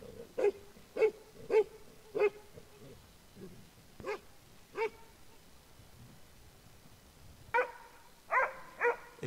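A Jämthund, the Swedish elkhound, barks to alert its owner after tracking an elk: a steady series of single sharp barks spaced about half a second apart, then a faster cluster of higher barks near the end, moderately close.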